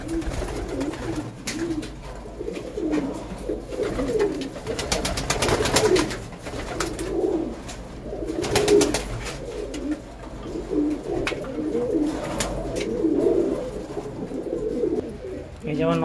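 Pigeons cooing as they are fed a beet and carrot mix, repeated soft throaty coos from several birds nearby, mixed with a person's voice talking.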